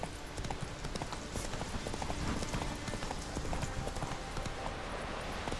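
Hoofbeats of Roach the horse galloping in the video game The Witcher 3, a steady rapid clip-clop that runs unbroken throughout at close range, with a dense layer of game ambience behind it.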